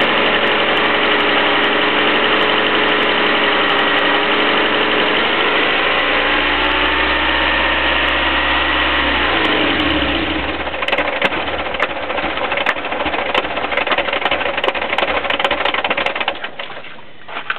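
A Toyota engine keeps running after the ignition is switched off, idling roughly with a steady rattling hum, then sputters and winds down unevenly, chugging and clattering before finally stopping.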